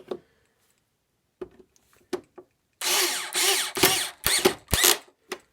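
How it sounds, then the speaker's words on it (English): A power drill whirs in several short bursts, starting and stopping as it pre-drills wood for a nightstand base, with a few faint knocks and clicks between runs. "And we're going to pre-drill this."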